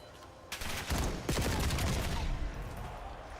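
Rapid gunfire bursts from a Call of Duty esports match, loud clustered shots starting about half a second in and rattling on for nearly two seconds before easing off.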